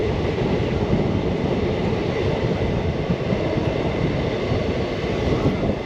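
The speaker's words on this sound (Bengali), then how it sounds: "ট্রেনটা কি সুন্দর টার্নিং নিয়ে যাচ্ছে" A train runs continuously along the tracks while turning, a steady loud rumble with dense rattling of wheels and carriages heard close from on board, with no talk.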